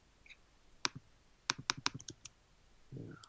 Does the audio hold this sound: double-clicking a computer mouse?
yes